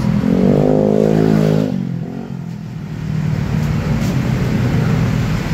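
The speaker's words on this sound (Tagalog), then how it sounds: "Ayan, start na yung motor." A motorcycle engine, started by a two-way alarm remote, runs loud and close with a steady low rumble and a slight dip and recovery in revs through the whole stretch.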